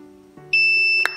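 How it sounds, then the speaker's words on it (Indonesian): An Arduino timer buzzer sounds a single sustained electronic beep of about half a second when a button is pressed, loud and close, with a faint tone just before it and a click at the end. "nah akan ada bunyi buzzer ya"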